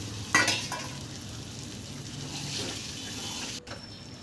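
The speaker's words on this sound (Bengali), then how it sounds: "আর চর্বিগুলোকে দিয়ে ভালো করে কষিয়ে নেব" Potatoes and peas frying in goat fat in a pan, a steady soft sizzle with occasional spoon scrapes and stirring clatter, no talking.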